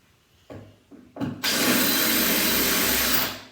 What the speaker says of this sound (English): Me, I just want to get them drilled.